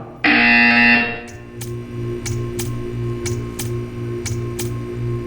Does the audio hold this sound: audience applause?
no